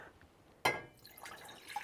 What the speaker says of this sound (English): Dump my water in.